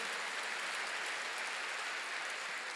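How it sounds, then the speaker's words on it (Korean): Church congregation applauding together, a dense steady wash of clapping that fills the space evenly from start to finish with no voices over it. "지금 박수로 하세요."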